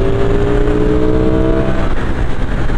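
Ducati Streetfighter V4S motorcycle engine holds a steady, loud drone at 6000 rpm with a dense harmonic growl, sustained throughout without any talk.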